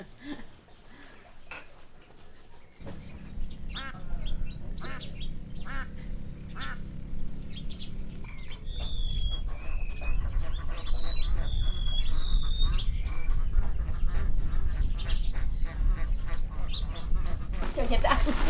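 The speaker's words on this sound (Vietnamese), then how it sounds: "Cho vịt ăn." Ducks quacking at feeding time at a rural home among flooded fields, with loud, busy quacks close by, mixed with clattering pans and dishes and a person's voice.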